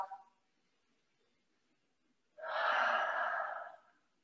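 A deep, audible breath during a yoga session, a long soft whoosh of air after a brief faint breath and a few seconds of near silence.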